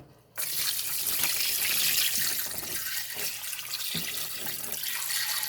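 Ice-cold brine poured onto salmon, a steady broadband splashing and running-water rush that starts abruptly and continues loudly without pause, with no talking.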